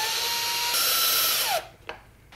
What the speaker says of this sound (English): Now we can screw the flight computer in.